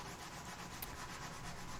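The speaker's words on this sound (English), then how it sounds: "coming back and just hand sanding through, I did end up using the foam pad" Hand sanding across a walnut slab with a foam sanding pad, a steady continuous rubbing scrape that holds at an even level throughout with no talking.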